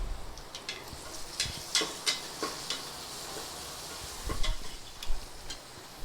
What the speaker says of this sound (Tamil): நல்லா வதக்குங்க, வெங்காயம் நல்லா வதங்கட்டும்.